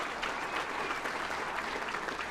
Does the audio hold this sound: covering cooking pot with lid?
no